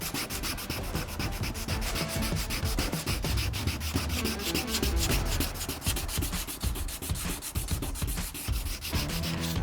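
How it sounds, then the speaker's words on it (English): Sandpaper dipped in water works back and forth over scratched car paint on a Toyota 4Runner, a loud, continuous rhythmic rubbing scrub close to the surface, with no speech. "We're going to do it wet sanding. It's a matter of just dipping the sandpaper into the water."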